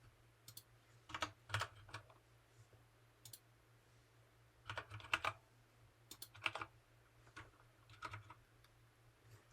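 Quiet clicking of a computer keyboard as someone types text into a drawing app, in irregular bursts of keystrokes with pauses between, over a steady low hum.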